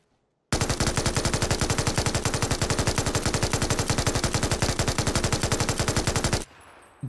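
An MG3 machine gun in PUBG fires one long sustained burst at its lower rate of fire, a rapid, even stream of loud close shots lasting about six seconds before stopping abruptly.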